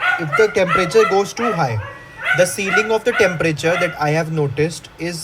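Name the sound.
dog barking in the background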